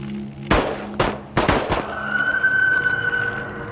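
Gunfire in the VR shooter Into The Radius: several sharp, loud shots close by in quick irregular succession, followed by a sustained ringing tone and rumbling ambience.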